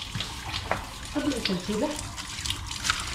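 Water runs from a tap into a kitchen sink during dishwashing, a steady close splashing flow with clinks, while a person speaks briefly over it.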